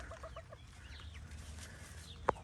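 Chickens clucking softly in a coop on a cold morning, with a steady murmur of low clucks and one sharp louder squawk near the end, fairly faint and without talk.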